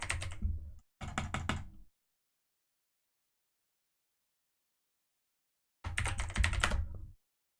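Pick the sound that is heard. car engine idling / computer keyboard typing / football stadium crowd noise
computer keyboard typing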